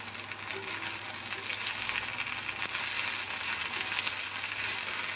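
Eggplant poriyal stir-fry sizzles steadily in a pan, a continuous frying hiss with light crackle and faint scraping as it is gently stirred, no voices.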